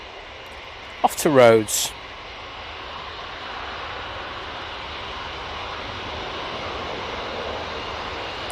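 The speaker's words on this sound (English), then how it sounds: "EasyJet now on the roll." An EasyJet airliner rolls down the runway at Manchester Airport for takeoff, its jet engines a steady, distant broadband roar that holds and slowly swells after a brief spoken line near the start.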